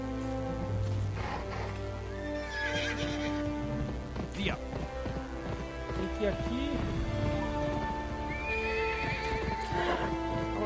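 In the PS2 game Gun, a horse whinnies several times over repeated hoof clops, with a steady background of game music and ambience; a voice talks briefly in between.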